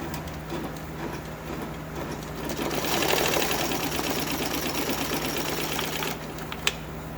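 An embroidery machine stitches a letter F onto a Flexfit hat with a steady, rapid mechanical chatter up close. The chatter grows louder midway, then stops abruptly near the end, leaving a quiet hum and a single click.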